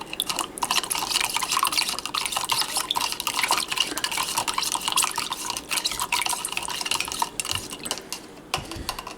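A spoon stirs creatine and fiber powder into a small amount of water in a cup, giving a steady run of clinking, swishing and dripping sounds close by for the whole stretch, with no talking.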